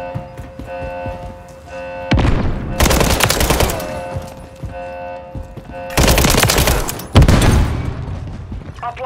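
Heavy automatic gunfire from a Modern Warfare III war-mode match erupts in two long, loud bursts of rapid shots, separated by quieter stretches of ambient battlefield noise and distant shots.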